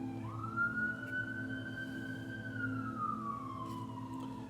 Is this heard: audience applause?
no